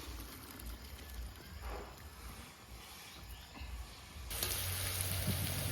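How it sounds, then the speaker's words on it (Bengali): Vegetables frying in hot oil give a soft, steady sizzle and crackle, fairly quiet at first and then swelling into a louder, fuller hiss near the end. "সবজিটা ভেজে নিয়েছি এখন তেল থেকে তুলে নেব"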